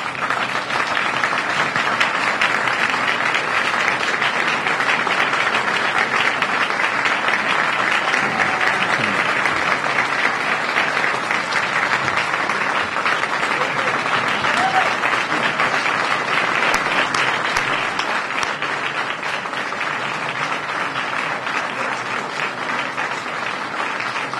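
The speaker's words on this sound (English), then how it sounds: "let's everybody give them a round of applause" A county address crowd gives a standing couple a long round of applause, dense continuous clapping from many people that stays loud and even, easing slightly near the end, with no talk over it.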